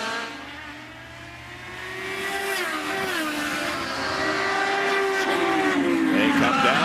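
IndyCar race cars in the 2010 Honda Indy 200 at Mid-Ohio, Lexington, Ohio, roar past with a sustained engine whine that rises and falls as drivers shift, building louder toward the end, with faint commentary voices underneath.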